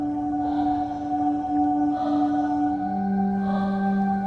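Eerie, wordless singing of mythical sirens drifting over a river, with sustained overlapping tones that swell and fade in slow waves and no speech.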